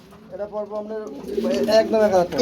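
Racing pigeons coo in soft, throaty, repeated pulses, close and clear, with a second bird joining into a denser burble toward the end.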